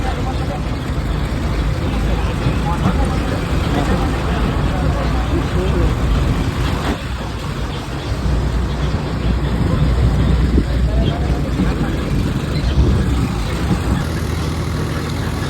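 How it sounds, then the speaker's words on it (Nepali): Rumbling tractor engine noise and wind rush continue throughout a ride, with voices talking over the steady mechanical drone. "मेरो पहिलो लाइफमा पहिलो ट्र्याक्टर राइड हो"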